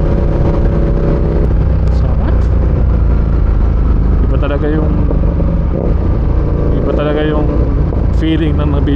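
A Ducati Diavel 1260 motorcycle engine hums steadily and loudly while riding, with a strong low rumble under someone talking throughout.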